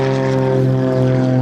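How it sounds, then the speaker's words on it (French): A propeller airplane passes low overhead near an abandoned base, a loud, steady droning engine tone with strong harmonic hum that fills the whole moment. "c'est putain d'avion qui fait autant de bordel"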